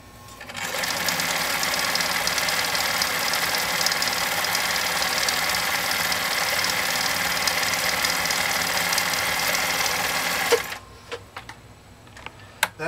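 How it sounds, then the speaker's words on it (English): A Husqvarna Viking 21 sewing machine stitches a decorative pattern, running with a steady, even mechanical whir for about ten seconds before stopping, followed by a few soft clicks and handling noises. "what we're going to do now is actually sew that particular decorative stitch off"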